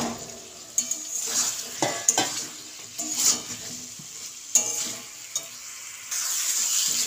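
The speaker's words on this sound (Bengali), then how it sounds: "এবার আমি ভেজে রাখা আলুগুলো দিয়ে দেব।" Fried potatoes are tipped into a pan of spiced masala that is already frying in oil for niramish aloo dum, bringing bursts of sizzling with spoon scrapes and metal clinks against a quiet, steady fry.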